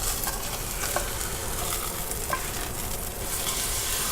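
A T-bone steak sizzles steadily in a hot pan right after being flipped, a loud, continuous crackling fry with small pops scattered through it.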